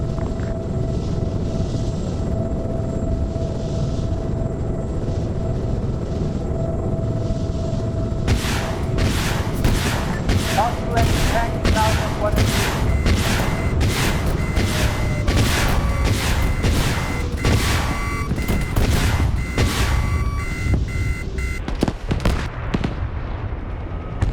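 Tank battle in a US versus Russia armor game, with steady rumbling combat at first, then a long run of sharp, loud repeated blasts and gunfire bursts at close range, ending in a dense cluster of shots.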